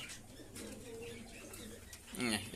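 A domestic pigeon coos faintly in a loft amid a low background murmur, with one brief, clearer coo near the end.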